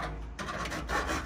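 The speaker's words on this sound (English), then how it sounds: "file the edges." Hand file rasping along the metal edges of a 75 Series Landcruiser sun visor to take off burrs, a couple of short, close scraping strokes in quick succession.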